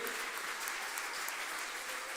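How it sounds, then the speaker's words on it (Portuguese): A church congregation applauding the Lord during a Thursday service, a continuous, even wash of many hands clapping, moderately distant and uniform throughout. "Você pode aplaudir ao Senhor?"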